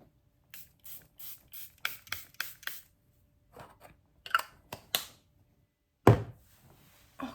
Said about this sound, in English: Spray.